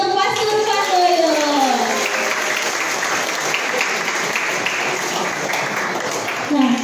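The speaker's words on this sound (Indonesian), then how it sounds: "Sekali lagi tepuk tangan yang meriah untuk Pastor Pandoyo." Audience applause at an anti-drug youth seminar, a steady wash of clapping filling the room for several seconds, with a voice speaking over the start and end.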